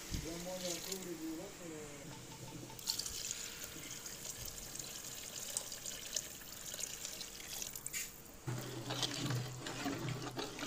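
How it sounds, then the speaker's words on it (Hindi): Water is poured into a cooking pot of chicken for chicken pulao, roughly three kilos of it, making a steady splashing gush with someone talking at the start and end. "पानी डाल रहे हैं जी।"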